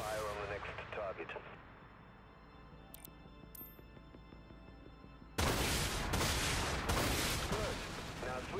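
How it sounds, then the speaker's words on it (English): Warship weapons firing on a target in the game Dreadnought on PS4: a quieter stretch with a few sharp metallic clicks gives way to sudden loud, dense booming fire that continues steadily to the end. "Now, divert energy to the weapons and fire on the next target."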